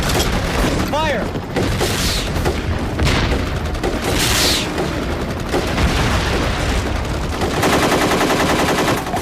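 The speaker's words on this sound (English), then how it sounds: "Need some suppressing fire along that fence road." A loud film shootout with sustained bursts of automatic gunfire and heavy booming shots, dense and continuous throughout, with shouted voices mixed in.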